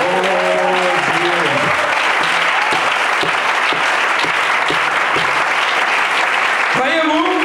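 A church congregation applauds loudly and steadily, dense clapping mixed with voices calling out in acclaim, while a preacher's voice rises over the noise at the start and again at the end.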